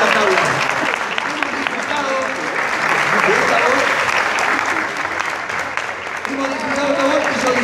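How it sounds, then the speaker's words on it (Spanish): An audience at the 2019 Romeo Gavioli awards ceremony gives Mónica a loud, sustained round of applause, with dense, even clapping filling the whole stretch. "Bueno, hacemos pasar a Mónica y que la gente la aplauda"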